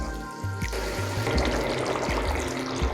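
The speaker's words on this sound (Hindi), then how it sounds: "अब देखिए, मैं इसमें थोड़ा पानी भी दे दिया हूँ।" Water runs steadily into a cooking pot for chicken potato kasa, a continuous pouring and splashing wash that starts slightly muffled and opens up after the first moment, steady and fairly close with no talk.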